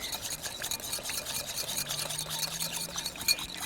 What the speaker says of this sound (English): Whisk our olive oil and lemon juice and garlic together.